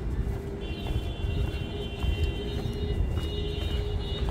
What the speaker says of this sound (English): You can hear the cars.